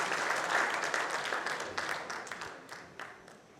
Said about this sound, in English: Let's hear a bigger applause and a heartiest congratulations